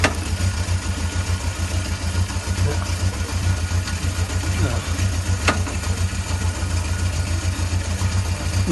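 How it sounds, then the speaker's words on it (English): A warm motorcycle engine idles steadily close by, a low continuous rumble with a fine uneven pulse, a faint click or two riding over it and no voices. "the engine running nice and warm"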